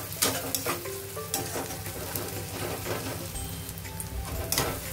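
Ginger garlic paste sizzles and crackles steadily in a hot pan for dry paneer masala, with scraping stirring strokes sounding up close throughout and no talking.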